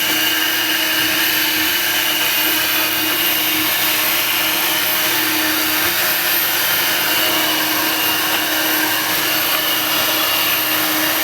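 A Cop Rose window cleaning robot runs continuously, giving off a loud, steady vacuum-like whir with a constant motor drone. No voices or breaks are heard.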